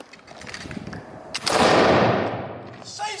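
A loud rifle volley from Napoleonic-era 95th Rifles reenactors at a fort, one big blast swelling and slowly decaying, with faint voices and commands before and after it.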